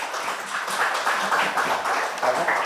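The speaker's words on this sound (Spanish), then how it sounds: "le damos otro aplauso" Steady applause from a lecture audience, a dense even patter of many hands clapping together throughout.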